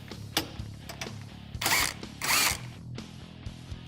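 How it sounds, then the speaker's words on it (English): A power tool backs out the bolts on a Kawasaki Teryx seat base. It gives two short, loud buzzing bursts among small metallic clicks and ratcheting ticks, and there is no talking. "Remove these 4 bolts."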